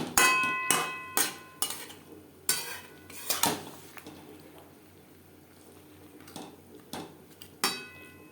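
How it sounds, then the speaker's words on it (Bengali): A spatula stirs fish with tomatoes in a cooking pan, giving sharp metallic scrapes and clinks in an uneven rhythm over a soft sizzle, loud and close, with quieter stretches between bursts. "মাছ বেশ ভালো করে মিক্সড করে দেবো"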